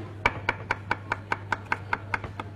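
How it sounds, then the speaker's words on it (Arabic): A knife chops celery on a board in about eleven crisp, evenly spaced strikes, close and clear, with no talking. "فرمت الكرافس بهيدا الشكل"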